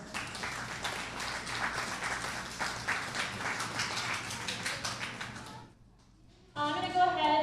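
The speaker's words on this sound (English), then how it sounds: "Let's go ahead and give them a round of applause." Audience applause at a county fair sheep and goat show, a steady round of clapping for several seconds that fades out, followed by a short pause and then a voice talking.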